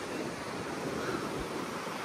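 Sea waves roll onto the coast at Ulsan, South Korea, a steady, dense wash of surf mixed with wind noise on the microphone, continuous and fairly distant.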